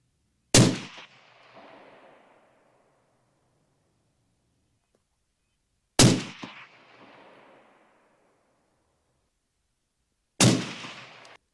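Three sharp, loud rifle shots from a Sig Sauer Cross .308 firing Remington Core-Lokt 150 grain ammunition, spaced about five seconds apart, each with a long rolling echo fading across an open range.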